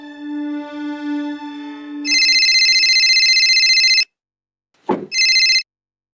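A telephone rings with an incoming call, first a sustained electronic tone and then loud buzzing ring bursts that stop abruptly, followed by a short click and one more brief burst of ringing.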